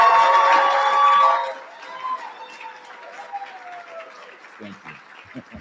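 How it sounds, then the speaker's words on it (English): An audience at a peace commemoration event applauds the staffers and directors, a dense burst of clapping and cheering that fades after about a second and a half into scattered claps, with a voice starting to speak. "can we get a round of applause for the staffers and the directors who've been making this a becoming event?"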